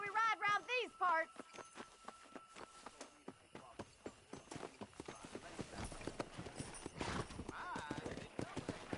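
Horse hooves clip-clop at a gallop in a Red Dead Western video game, a steady rapid beat close by, with a whinny and a voice speaking near the start.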